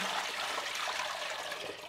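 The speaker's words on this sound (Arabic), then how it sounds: "وبعدين بفتح عليهم المي وبغسلهم" Tap water runs steadily over eggplants being washed in a kitchen, a close, continuous splashing hiss with no talk.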